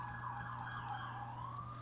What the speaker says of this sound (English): Yeah, that was a siren. Went by.